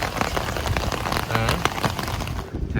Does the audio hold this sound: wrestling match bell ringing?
no